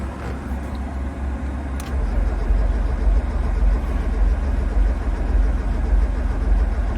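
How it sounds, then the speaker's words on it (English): A 1994 Mazda Miata, parked for 11 years, cranks with its fuel pump relay held in, a steady rumbling churn that grows louder after the first couple of seconds. "So now we're going to crank it while we're pulling the relay in."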